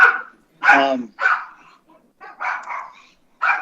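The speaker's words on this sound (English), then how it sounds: "I'm sorry, the dogs barking in the background" Dogs barking off in the background during a planning and zoning commission meeting, several sharp barks and yips in quick bursts with gaps between them.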